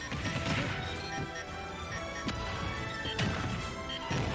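A down smash lands in a Super Smash Bros match between Snake and Mr. Game & Watch, a few sharp crashing hits cutting through busy, continuous game music and effects.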